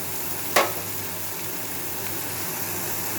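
Banana peel fries with turmeric in a pan with little oil, giving a steady, even sizzle, and a single sharp scrape of the stirring utensil near the start.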